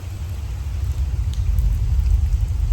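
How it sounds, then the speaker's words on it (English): Steady rain during a thunderstorm with a low, rumbling wash underneath, continuous and fairly loud throughout, no voices. "Well, it's still raining."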